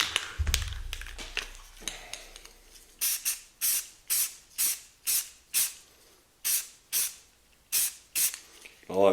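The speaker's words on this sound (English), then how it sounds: "I'm just going to hit it with the OD green and just a real light coating" An aerosol can sprays a light OD green coating onto an AR-15 grip, short hissing bursts repeated in a steady series of about a dozen, close and distinct, after a few initial clicks and rattles.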